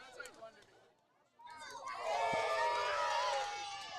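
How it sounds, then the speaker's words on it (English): A baseball game crowd, quiet murmuring at first, then swelling into loud sustained cheering and shouting that holds to the end. "we continue on with some cheers from the crowd"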